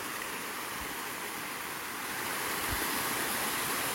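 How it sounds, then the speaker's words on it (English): Water running in a small watercourse, a faint steady hiss of flow that swells slightly in the second half, with a couple of soft low bumps. "So I found a little water course."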